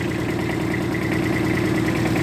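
Tractor engine idling, a steady, close mechanical drone with an even throb and no break throughout.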